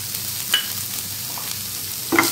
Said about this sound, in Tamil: அதே ஃபேனில் கொஞ்சம் ஆயில் ஊற்றி தேங்காய் வதக்கிக்கலாம்.